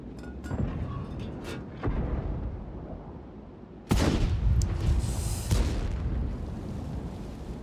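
Tank cannon shells firing in World of Tanks, heard as a few heavy booms with a big blast near the middle, over a steady rumbling game backdrop.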